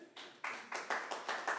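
A small group of people claps at an elementary school awards event, about six quick, fairly close claps in an even rhythm.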